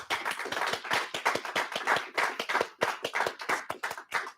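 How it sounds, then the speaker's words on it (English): Audience applause for award winners at a school awards ceremony, a steady burst of many hands clapping, fairly close and loud, with no talk over it. "Let's give one last big round of applause for all our seniors."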